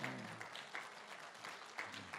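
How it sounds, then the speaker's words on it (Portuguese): A church congregation claps together during a morning service, a faint, steady patter of applause with a few louder bursts across two seconds. "Dê uma salva de palmas para o Eterno nessa manhã."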